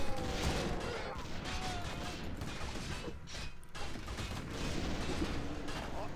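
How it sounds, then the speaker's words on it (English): Continuous dense battle noise from Warcraft III mortar teams shelling, a steady wash of thumps, clanks and crashes throughout, with a voice talking over it. "you can see all the AoE damage from both the mortars"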